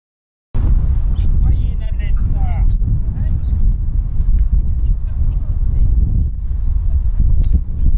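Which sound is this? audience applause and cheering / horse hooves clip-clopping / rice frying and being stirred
horse hooves clip-clopping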